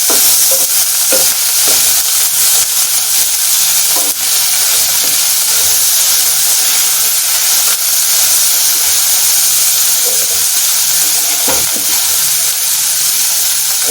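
Onions with a pinch of salt fry in a pan for a Bengali-style pangas fish curry, a loud, constant sizzle and hiss broken by occasional spatula scrapes and clinks, with no talk.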